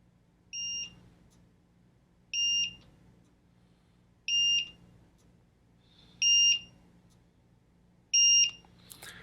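A Tick Timer countdown timer set to its loudest tone sounds five evenly spaced, sharp electronic double-pitched beeps, about two seconds apart, loud and clear over a low background hum.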